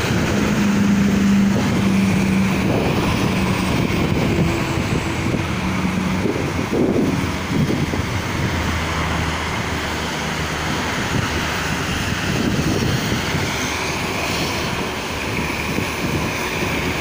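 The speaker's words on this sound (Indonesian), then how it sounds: "Wow, tambah kencang anginnya" Gusty wind in a rainstorm on the Jakarta–Cikampek toll road blasts steadily against the microphone for a long stretch, a loud rushing roar with faint low engine tones underneath.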